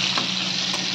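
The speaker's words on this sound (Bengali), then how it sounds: "এইভাবে আমি সব মাংসগুলোকে ভেজে নেব" Chicken tikka pieces fry in oil in a pan, a steady close sizzle with a faint crackle, heard alone without any voices.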